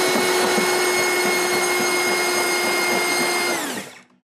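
A Cobra 2204/2300kv brushless motor spins a 5x4x6 HQProps hexblade six-blade propeller at max throttle on a test bench, a loud steady high-pitched whine and rushing drone that winds down and cuts off near the end.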